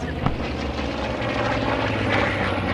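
Bomber aircraft on a bombing run in the Post Scriptum World War 2 game, a steady droning engine rumble with a pulsing propeller throb, loud and continuous.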